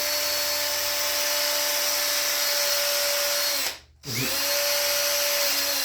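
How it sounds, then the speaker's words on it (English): A wire wheel on a power tool whines steadily against the metal surface of a Stanley Bailey No. 7 plane, loud and close, dropping out briefly before spinning back up. "Just gonna throw the wire wheel over the surface here."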